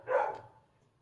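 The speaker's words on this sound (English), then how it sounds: "all of the dogs are barking right now." One short dog bark sounds from outside, somewhat distant and muffled, fading quickly into quiet.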